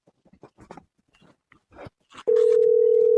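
A steady telephone dial tone comes on and holds as a call is placed, loud and continuous after a few soft handling and button sounds.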